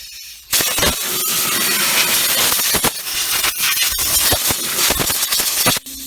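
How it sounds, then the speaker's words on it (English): Compressed air nozzle blowing out the heater core area under a car dashboard: a loud, harsh hissing blast starts abruptly, runs in bursts with brief dips, then cuts off near the end. "Now we're going to blow out the heater core area down there."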